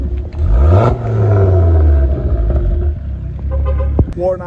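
Ford Focus ST225 with a quiet exhaust revving up and settling, a loud, close engine drone whose pitch rises and falls, with a few clunks and a short sharp noise near the end.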